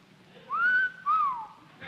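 A man whistles a mild two-note wolf whistle on a 1950s television panel show: a clear rising-and-falling note followed by a shorter falling one, close and loud against a quiet room.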